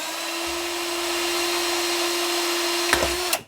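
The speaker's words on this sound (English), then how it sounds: "I think I can drill a hole for the" A power drill whirs steadily at a constant high pitch for a few seconds, close by, drilling a screw hole in scrap parts for a lamp, ending with a couple of brief knocks as it stops.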